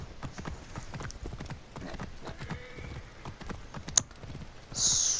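Horse hooves clip-clop at a steady trotting rhythm in Assassin's Creed Origins, close and clear, joined near the end by a short bright tone.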